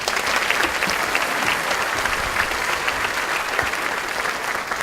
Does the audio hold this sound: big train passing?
no